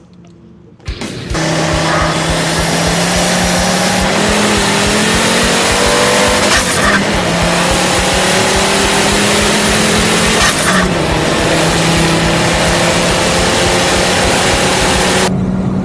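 Cars racing on a track, including a Renault Twingo 2 RS and a Volvo: loud, continuous engine roar with gear changes and rising revs, plus occasional brief tire noise, close and without talk.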